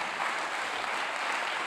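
A crowd keeps up sustained, even applause in a conference hall at an African investment conference while a guest speaker makes his way to the stage, a continuous wash of clapping with no talk over it.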